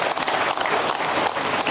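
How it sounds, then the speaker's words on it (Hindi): Enthusiastic audience applause at the Chakradhar Samaroh cultural festival stage in Raigarh, a dense steady clatter of many hands filling the hall without a break. "आप सभी उनको जोरदार तालियों के साथ उनका अभिनंदन करें"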